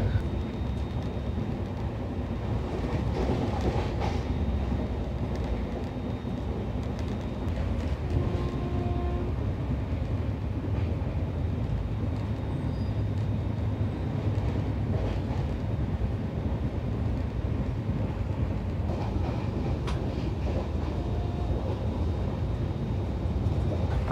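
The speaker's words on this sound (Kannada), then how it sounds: "90-100 ಆಸ್ಪಾಸ್ನಲ್ಲಿ ಸ್ಪೀಡಲ್ಲಿ ಟ್ರೈನ್ ಇವಾಗ ಹೋಗ್ತಾ ಇದೆ." Shatabdi Express running at about 100 km/h between Mysore and Bangalore, heard from inside as a continuous low rumble and rattle with faint rhythmic wheel knocks throughout.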